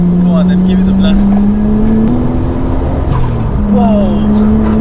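A Nissan Skyline R33 making about 350 brake horsepower revs and pulls hard on the street, its loud engine note climbing, dipping briefly at a gear change, then rising again, heard close up throughout.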